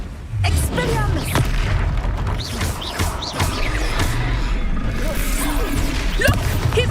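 Hogwarts Legacy combat: the Expelliarmus disarming spell going off amid loud whooshes, magical bursts and impacts, dense and continuous, with voiced shouts over the action.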